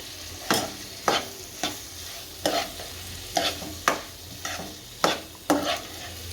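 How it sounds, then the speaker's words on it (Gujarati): Split moong dal with red chili powder being stirred in a pan, a spoon scraping the bottom in about ten evenly spaced strokes over a faint sizzle, close and moderately loud with no talking. "હવે મરચું નાખશું લાલ, આને ભેળવી નાખશું સારું"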